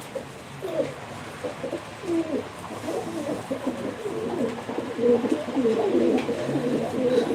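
Tumbler pigeons at a live pigeon auction coo repeatedly in low, rolling phrases, several birds overlapping close by and growing busier over several seconds.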